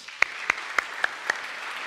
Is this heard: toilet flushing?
no